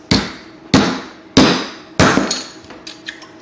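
A hammer flattens a piece of metal with four loud, ringing blows spaced evenly, followed by a few lighter taps that fade. The strikes are close and there are no voices.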